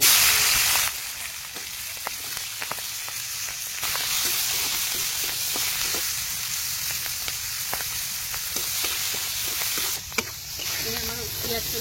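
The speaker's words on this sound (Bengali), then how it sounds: "এই পেঁয়াজ কলিগুলো ভেজে নেব।" Onion stalks fry in hot oil for a shukto, sizzling steadily through the whole stretch with scattered stirring clicks and scrapes.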